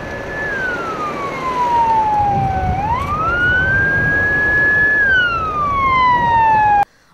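A 112 emergency ambulance siren at a motorcycle crash scene wails, sweeping slowly down and back up in pitch, loud and steady, continuing without pause before cutting off abruptly near the end.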